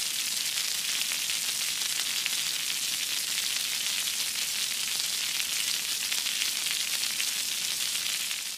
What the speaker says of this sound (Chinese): 我们煎的是牛肉汤包